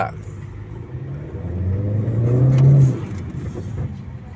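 A 2017 Honda Civic FC 1.5 turbo, factory stock, revs while standing still: a steady idle swells into a rising rev that peaks and falls back, loud and close, with someone talking over it.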